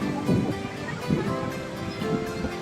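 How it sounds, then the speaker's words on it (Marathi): Sea waves at Ganpatipule beach wash in with a steady, rushing roar, swelling and easing in gentle surges; no voices. "आणि हा असा चांगला समुद्र आहे गणपतीपुळ्याचा."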